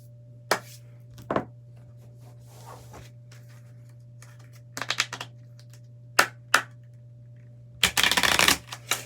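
A deck of tarot cards is shuffled in short, scattered bursts of riffling and tapping against a steady low hum, with a longer, louder shuffle near the end.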